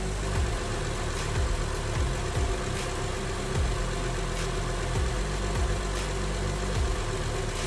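A 2016 Honda Odyssey minivan engine idles with a steady, even low rumble and faint periodic ticks, close by and continuous, with no talk.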